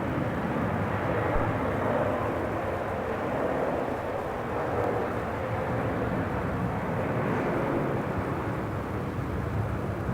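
Steady broadband roar of a fixed-wing airliner lined up on runway 34 at Melbourne Airport, heard from the T4 viewing area, a constant engine rumble holding evenly across the whole stretch with no voices.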